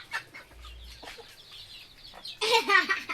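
Backyard chickens on a farm clucking in short, scattered calls, building to a louder burst of clucking near the end, with a little quiet voice in the background.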